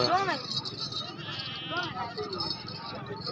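Goats, including pregnant goats and goats with kids, bleating with wavering, nasal cries amid a noisy crowd at a livestock market in Bahawalnagar, with people talking nearby throughout.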